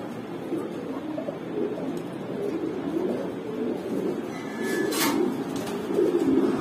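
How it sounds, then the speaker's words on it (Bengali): Pigeons, including Mumbai pigeons, coo at a pigeon farm, a steady chorus of low, throaty calls that swells and overlaps, with brief faint chirps. "মুম্বাই কবুতর আছে অনেকগুলো"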